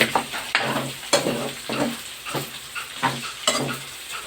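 Pork cheek meat being stirred in a hot pan for dinuguan, with repeated scraping strokes over a steady sizzle of frying, close and fairly loud, no talking.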